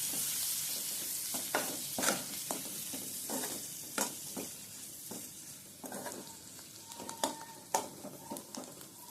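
Prawns sizzle softly in a pan with onion and coriander leaves while a spoon scrapes and stirs them in a steady run of short, distinct strokes over a quiet, continuous frying hiss.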